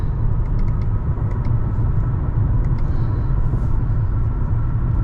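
Cabin noise inside a Mercedes-Benz GLA200 cruising on a highway at about 90–100 km/h: a steady low road and engine rumble with faint tyre hiss, continuous and even throughout, with no speech.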